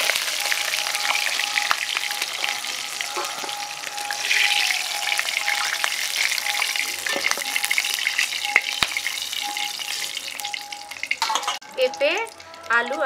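Papaya, potato and drumstick pieces frying in oil, giving a close, steady sizzle with bursts of crackling and occasional stirring scrapes, loudest toward the end.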